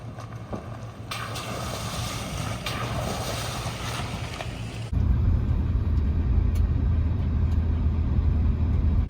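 A truck driving down a road in the San Juan Mountains toward a camping area, heard from inside as a steady engine and road rumble with wind noise that grows louder and deeper partway through.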